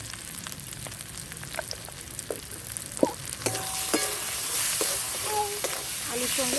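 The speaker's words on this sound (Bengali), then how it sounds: "আলুর সঙ্গে মশলাটা খুব সুন্দর কষা হয়ে গেছে।" Spice masala and potatoes fry in a pan for a seeded-banana curry with a loud, steady sizzle and hiss. Occasional stirring clinks come through, and a voice talks faintly near the end.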